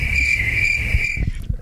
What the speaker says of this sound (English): Giving yourself crickets is crazy for that.